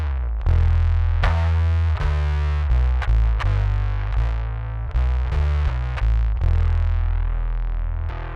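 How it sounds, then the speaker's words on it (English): Heavily distorted, fuzzy bass notes played one after another through a fuzz pedal boosting a distortion pedal, thick and buzzing, each note ringing out before the next. "The fuzz pedal, which is boosting the distortion pedal,"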